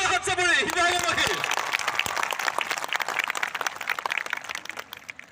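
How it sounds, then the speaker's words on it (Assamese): A host's voice gives way to a crowd of Sivasagar residents clapping at an outdoor record-setting gathering of thousands of mothers, the applause crisp and lively, gradually thinning and fading toward the end. "পুনৰ এটা জোৰদাৰ হাত চাপৰি শিৱসাগৰবাসী"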